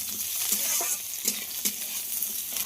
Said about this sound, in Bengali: পেঁয়াজটা আলুর সঙ্গে একটু হালকা করে ভেজে নেব।